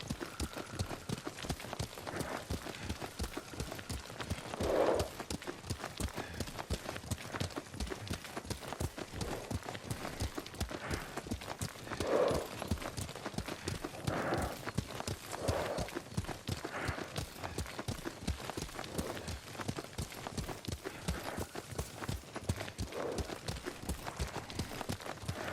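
Horse hooves in Ghost of Tsushima pound out a steady, rapid clip-clop rhythm throughout while riding, fairly even and continuous, with occasional louder thuds and soft background game ambience.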